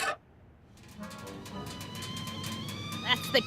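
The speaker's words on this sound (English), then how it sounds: "That's the kettle." A kettle whistles in the Back to the Future video game, a steady high tone with bright overtones that holds for a few seconds over a low room hum, with a couple of short clinks near the end.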